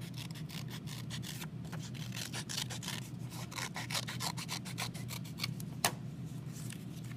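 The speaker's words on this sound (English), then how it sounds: "You'll then cut out your heart shape." Scissors cut a heart shape out of folded paper, giving a steady run of close, soft snips and rasps over a quiet hum, with one sharper snip near the end.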